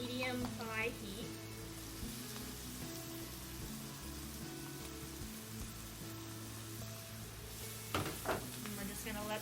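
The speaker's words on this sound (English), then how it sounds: "we're just going to let these saute for about 10 minutes in that nice golden brown roux that we have" Vegetables sauté in a golden brown roux for étouffée in a skillet over medium-high heat, giving a steady close sizzle throughout with a low hum beneath and a brief clatter of stirring near the end.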